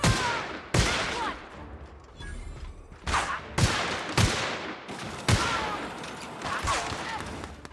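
Video game gunfire arrives as loud bursts of close shots and heavier booming blasts at irregular intervals over a constant rumble, with some talking in between.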